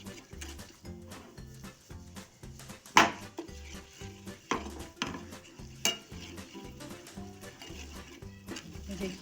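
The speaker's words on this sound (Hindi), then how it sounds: "अब इसमें हम ये 1 चम्मच बेसन डाल देंगे और उसे अच्छे से भून लेंगे।" A spoon stirs and scrapes gram flour roasting in hot ghee in a pan, a steady rhythm of soft scrapes and clinks with faint sizzling, close and moderately quiet, with someone talking over it.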